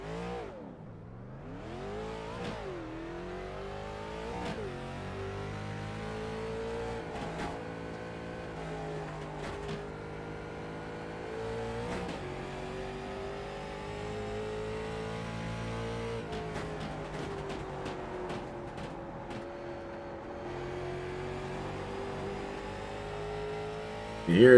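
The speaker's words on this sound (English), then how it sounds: "You hear that car powering off the turn, looking for 3 and 4." Race car at Irwindale speedway powering off a turn, its engine pitch repeatedly climbing and falling through gear changes, steady and fairly distant with a brief sweeping pass and a louder burst at the end.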